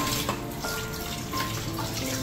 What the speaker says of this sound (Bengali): এই যে মা ইলিশ মাছগুলোকে ভালো করে জল দিয়ে ধুয়ে নিচ্ছে